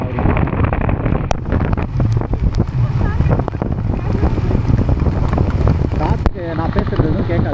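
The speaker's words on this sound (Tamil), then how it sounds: "காத்துக்கு நான் பேசுறது எதுவும் கேட்காது." Strong wind buffets a microphone during a rainy drive toward Nirar Dam, a loud, rough, constant rumble with gusty crackles that nearly drowns a voice speaking beneath it.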